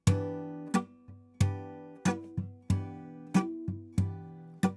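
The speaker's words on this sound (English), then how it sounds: "this snap as a sort of a bass drum, and then fingers as like a snare" Percussive guitar playing: sharp body snaps land like kick beats, lighter finger taps fill between them, each hit ringing with bass notes in a steady groove.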